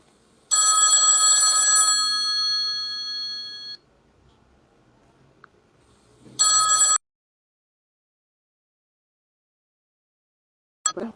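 A telephone rings loudly and close during a talk on anxiety, with a sustained bright electronic ring, a second short ring a few seconds later, then silence and a faint click at the end.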